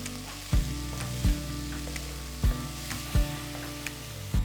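Chopped red capsicum and tomatoes fry in a pan for a chapati sandwich filling, giving a steady close sizzle broken about once a second by sharp stirring scrapes and clunks, with no voices.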